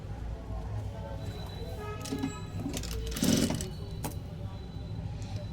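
A sewing machine runs close by while stitching a blouse hem, giving a steady motorized hum with a louder mechanical burst near the end, and a voice talks underneath.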